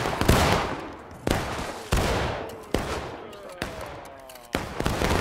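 Gunfire in the Civil War-era game War of Rights: several sharp rifle shots ring out one after another at irregular intervals, each followed by a long echoing decay, loud and close with distant reports between.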